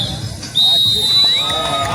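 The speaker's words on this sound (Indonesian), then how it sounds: "Wasit saudara bangun meniupkan peluit panjangnya yang kedua, menandakan bahwa pertandingan babak pertama sudah usai" A referee's long whistle ends the first half of a village football match, a single sustained shrill tone from about half a second on, over crowd babble and commentary.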